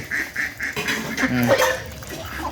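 Several ducks quacking nearby in short repeated bursts, with a person talking faintly in the background.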